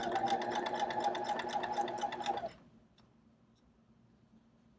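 Sewing machine stitching an inseam buttonhole, running fast and steady with a dense mechanical whir for about two and a half seconds, then stopping abruptly into quiet with faint handling sounds.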